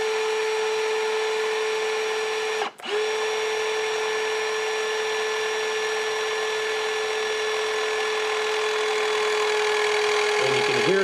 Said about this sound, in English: And you can hear the pump.